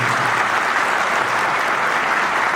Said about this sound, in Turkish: Onun için kuvvetli bir alkış diliyoruz.